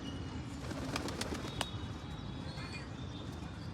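Pigeons at a rooftop loft settle in the sun with a steady low cooing and rustling, broken by a few brief sharp wing flaps or clicks, close and fairly even throughout with no talking.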